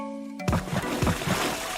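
Cartoon water splash effect: a loud close splash followed by a few quick sloshing splatters over under two seconds, with no talking.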